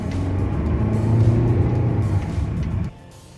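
A SsangYong Tivoli diesel pulls hard under acceleration, its engine droning and rising steadily for about three seconds before the sound drops off abruptly as the throttle lifts.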